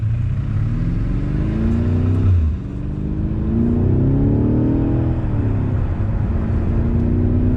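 A BMW M5 Competition's engine revs while the car is at a standstill: a loud, close, low roar that climbs, drops off and climbs again in two sweeping revs against a constant rumble.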